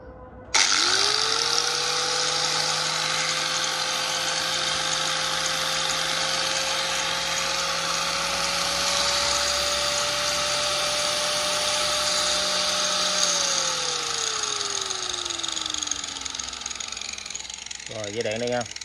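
Hitachi G10SH3 100 mm angle grinder, 100V 720W rated at 12,000 rpm and made in January 2004, whines up to a steady loud high pitch, runs for about twelve seconds, then spins down as it is switched off.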